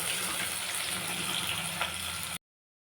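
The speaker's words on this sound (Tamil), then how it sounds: "வெங்காயத்தோட உரித்து வச்ச பூண்டை ஆட் பண்ணிக்கலாங்க. நல்லா வதக்கிக்கலாம்." Onions and garlic sauté in a pan as the base for a Bhavani kendai fish and mango curry, giving a steady, even sizzling hiss that stops abruptly near the end, with no talking.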